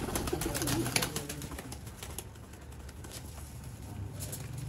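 A young pigeon held in the hand coos softly amid a noisy outdoor background with faint rustling.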